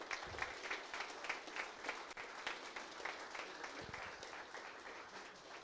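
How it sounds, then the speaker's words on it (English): A tech meetup audience gives a speaker a warm round of applause, many hands clapping at an even level for several seconds, with faint voices mixed in. "Let's give Lukáš one more round of applause."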